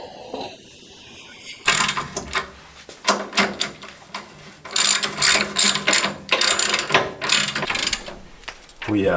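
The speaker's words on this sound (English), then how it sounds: "grabs the old ratchet wrench." An old ratchet wrench clicks away on a Ford F100 during a Crown Vic suspension swap, with loud, close bursts of rapid ratcheting repeated in uneven spurts after a quieter start.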